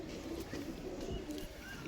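Pigeons at a pigeon club coo softly and low, a faint murmuring burble under a hazy outdoor background, with no clear talk.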